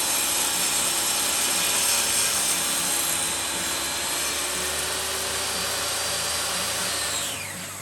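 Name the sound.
table saw cutting epoxy lamp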